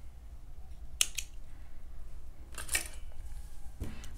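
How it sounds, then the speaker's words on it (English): Scissors snip through yarn in a few quick, crisp cuts: one near the start, another pair later on and a soft thud at the end, all against quiet background. "Cut your yarn."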